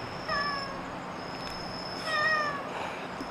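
A cat on an island campsite meowing twice, two clear drawn-out mews about two seconds apart, close and alone over a faint steady background hum.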